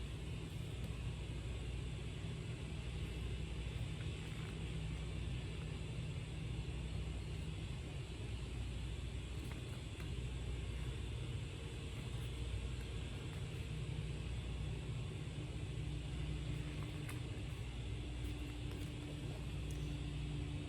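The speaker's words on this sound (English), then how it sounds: "Sorry if you can now hear the plane on top of that other sound" A fixed-wing airplane passes overhead, a steady distant rumbling drone that holds evenly for about twenty seconds beneath a faint constant background hum, with no voices.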